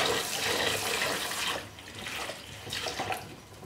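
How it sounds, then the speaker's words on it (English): A cloth is washed with detergent under running warm tap water at a sink, a steady close splashing flow that shifts and gurgles as the fabric is worked through. "Simply run it under warm water, add some detergent, get it really well washed through"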